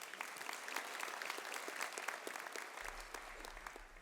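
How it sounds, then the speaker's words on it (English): Applause from an audience at a high school honor awards assembly in a gym, a steady wash of many hands clapping at moderate distance, fairly quiet and sustained throughout. "Let's give them a round of applause"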